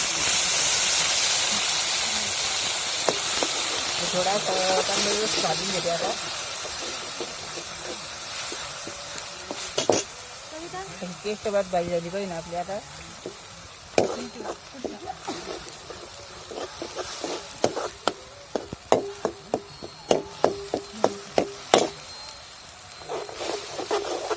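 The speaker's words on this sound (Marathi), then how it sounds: "आता ना मिरचीची फोडणी देते" Hot oil sizzles steadily as chili tempering (phodni) with cumin and garlic cooks, a broad hiss broken by sharp crackles and pops, with a voice talking at times.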